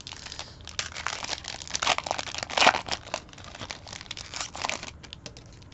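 Foil wrapping of a trading card prize pack crinkling and tearing open, a steady close run of crackles and rips with a few sharper crunches, no talk.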